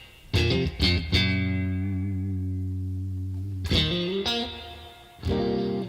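Electric guitar played through a PolyChrome DSP Lumos with spring reverb, a few plucked chords that ring out and decay slowly with a reverberant tail, then more chord strikes, clear and alone.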